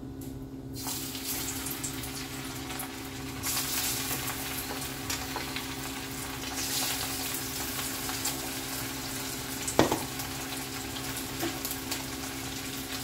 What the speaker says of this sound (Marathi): अशा प्रकारे आपण कोंबडीचे पाय असतात ते सुद्धा अशा प्रकारे आपण तळू शकतो, फ्राय करू शकतो